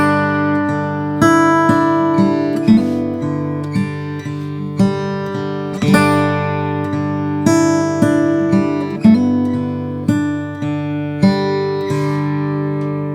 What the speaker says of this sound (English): So the first 2 bars, which happen to be the same as the second 2 bars, sounds like this.